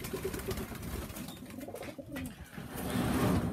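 Pigeons cooing inside a loft, soft repeated coos close by with a rustle of wind and movement in the background, no voices.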